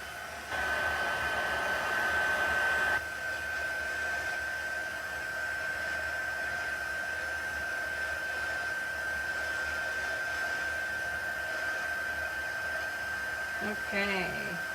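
Steady whooshing blast of a heat tool used for heat embossing a Mother's Day card, a loud continuous hiss that runs almost the whole time with a slight drop in level after the first few seconds and a brief clatter near the end.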